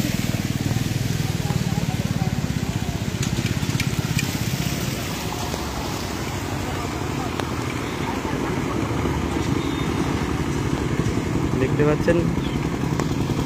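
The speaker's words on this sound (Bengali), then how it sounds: "এই দেখুন বাইক আসছে" A motorcycle engine hums and revs as the bike rides through a rain-flooded street in Arambagh town. Water churns around it, and a reporter talks loudly over the steady engine noise.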